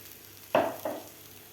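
A spoon stirs a mixture of grated fresh coconut, mango pulp and jaggery in a pan over medium heat, giving two short scraping, sizzling strokes close by with quiet between them.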